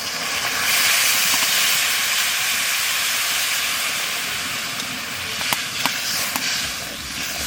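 Water poured onto hot spice masala in a pan hisses and steams in a loud, steady broadband rush, with a few sharp clinks of a utensil near the end.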